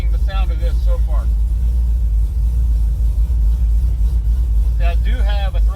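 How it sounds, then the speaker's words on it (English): A car engine idles steadily while warming up, a loud, constant low rumble throughout, with someone talking over it at the start and end. "The car is just getting warmed up. It's going to idle down a little bit before we get going."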